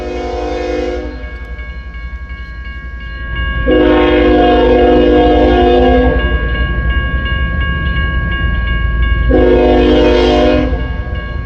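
An eastbound double-stack freight train rolls past in a snowy blizzard, loud rumbling and clanking of cars throughout, punctuated by three long blasts of its horn, one at the start, one in the middle and one near the end.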